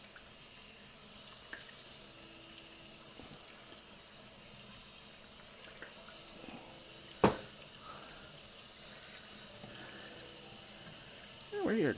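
Rinse water runs steadily from a tap as a faint, continuous hiss, with a few soft clicks and one sharp knock partway through.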